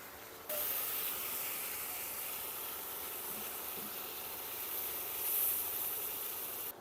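Water poured into a hot pan over washed spices and gravy; a sudden steady hiss of steam and sizzle starts after a brief quiet moment and holds evenly, close and alone.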